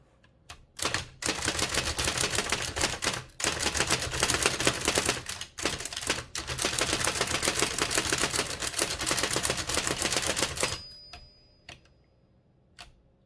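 A Hammond Multiplex typewriter is typed on close up, with fast, steady clacking in long runs broken by a few short pauses, then single keystrokes and near silence at the end.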